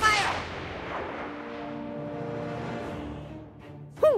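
Gunfire in South Park: The Stick of Truth: a burst of sharp reports at the start, then a sustained rumbling, ringing tail with tonal game sounds, and another sharp hit near the end.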